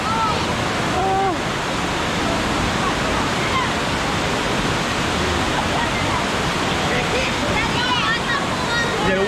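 Dunn's River Falls sends down a loud, constant rush of water over rocks at a beach setting. Scattered voices and cries of children and adults sound over the roar.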